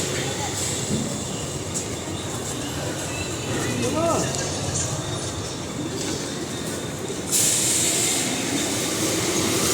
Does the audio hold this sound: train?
yes